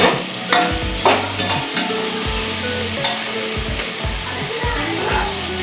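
Eggs frying in a pan for egg biryani, a continuous close sizzle broken by repeated spatula scrapes and turning knocks at an uneven rhythm.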